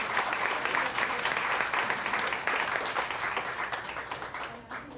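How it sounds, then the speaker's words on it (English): An audience applauds the panelists at a women's alumni network launch, a dense, steady wash of clapping that holds strong for nearly five seconds before thinning slightly at the very end. "Let's give a round of applause, please, again to our panelists"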